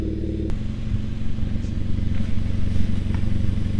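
A Hyundai Veloster Turbo idles through a custom axle-back exhaust with a deep, steady low rumble, close and loud, with a brief click near the start.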